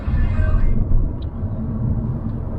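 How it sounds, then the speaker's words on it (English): A Toyota hybrid car cruising in pure electric mode through a 20 mph town zone, giving a steady low rumble of road and tyre noise from inside the cabin, with no engine note and a couple of faint high chirps. "I'm in the 20 limit, this thing's now capable of driving around on pure electricity."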